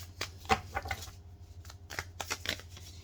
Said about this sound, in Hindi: चलिए रीडिंग स्टार्ट करते हैं with the shuffling of cards